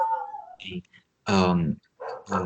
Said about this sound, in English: My dog's singing a song for you.